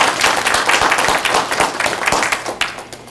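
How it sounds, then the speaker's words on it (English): Audience at a charity event breaking into loud, dense applause, many hands clapping close and continuously before fading slightly at the end. "let's give a round of applause for those who participate and supported"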